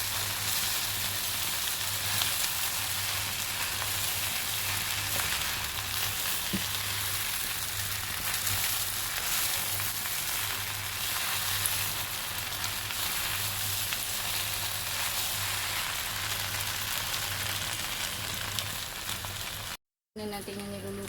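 Kimchi fried rice sizzles in a hot pan, a continuous crackling hiss lasting about twenty seconds with a low hum beneath it and a brief dropout near the end.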